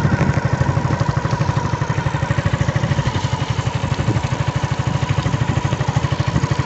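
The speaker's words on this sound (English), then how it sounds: "As you can see, the motor is rotating." A 24V 250W conversion-kit motor on a homemade e-bike spins steadily, giving a close, loud, rapidly pulsing mechanical whir that holds an even rhythm throughout with no voices.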